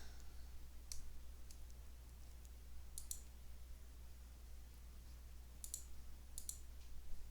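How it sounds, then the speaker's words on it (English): A computer mouse gives a few faint, sharp clicks, some in quick pairs, spread over a quiet steady hum. "Click that."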